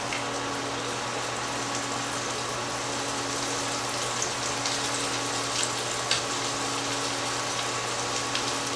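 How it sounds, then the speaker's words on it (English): Floured pork chops browning in a hot frying pan give a steady, even hiss and crackle of frying that runs through the whole stretch without a break, moderately loud and close, with no talking over it. "So just shake off the excess and place them in here. All we're going to do is lightly brown them."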